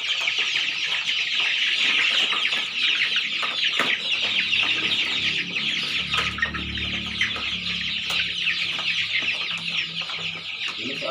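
Several chickens cluck and chatter continuously, close by and fairly loud, with a steady low murmur underneath.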